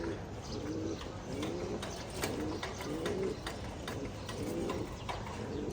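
Several pigeons coo in low, repeated throaty phrases at close range, with light rustling and faint chirps around them.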